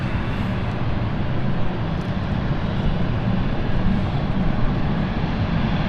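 A passenger aircraft taxiing at London City Airport gives a steady, loud jet engine roar that holds constant with no voices over it.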